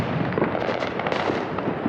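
New Year's fireworks crackle and pop continuously nearby, a dense rapid burst of firecracker-like bangs filling a short moment.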